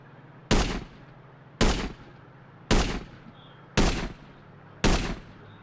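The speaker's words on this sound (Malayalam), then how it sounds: "നമുക്ക് വെടിവെച്ച് നോക്കാം" A gun in a mobile Android shooting game fires five single shots in a steady rhythm about a second apart, each a loud sharp blast with a short decaying tail and nothing else in between.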